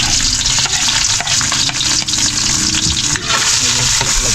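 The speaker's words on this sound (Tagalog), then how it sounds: "lagay ko na yung luya at saka yung bawang sabay na sila" Ginger and garlic frying together in coconut milk for adobo, a loud, steady sizzle and bubbling with occasional stirring scrapes throughout, no voices.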